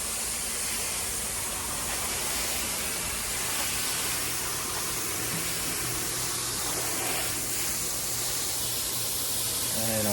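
A hose sprays water onto air conditioner condenser fins, a loud steady broadband hiss of spray running continuously and close up, with a low hum underneath.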